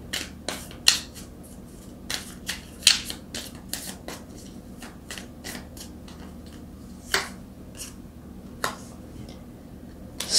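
Tarot cards being shuffled and drawn, a string of crisp, close card flicks and snaps in an irregular rhythm over a quiet room hum, with no talking.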